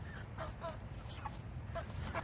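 Meat chickens in their final week cluck and call in short repeated bursts just before a feeding, the flock's chatter fairly close over a steady low rumble of background noise.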